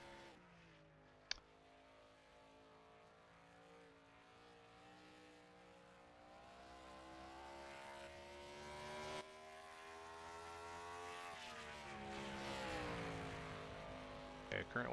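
Race car engine from the NASCAR Racing 2003 video game at North Wilkesboro, a sustained droning whine that rises and shifts in pitch as the car laps the track, with a commentator talking over it.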